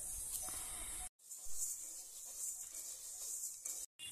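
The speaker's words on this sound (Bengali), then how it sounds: "এই মতো আমি চালগুলোকে ভেজে নেব সবগুলো" Rice grains pan-roasted to make puffed rice (muri) give a soft, continuous hissing, rustling sizzle, faint and steady with two brief dropouts.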